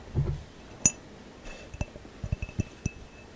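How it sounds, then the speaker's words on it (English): Fingertips or nails tapping on a glass fast-food jar, a sharp ringing clink followed by a series of light, close taps in an uneven rhythm in a quiet room. "First, we have glass tapping."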